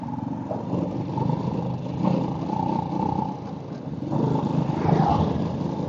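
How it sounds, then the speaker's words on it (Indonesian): A Honda Supra motorcycle sputters at full throttle, its engine note rough and uneven with repeated surges and dips in a close, continuous drone. "Jadi motor gua tuh sering ngebrebet kayak gini nih."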